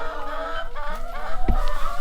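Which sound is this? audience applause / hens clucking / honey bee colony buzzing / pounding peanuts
hens clucking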